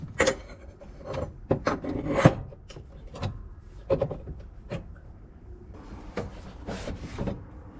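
A welding ground cable for an Everlast PowerTIG 200DV is uncoiled beside a workbench, producing close, intermittent scraping and rubbing swishes with scattered knocks, followed by a longer sliding rustle.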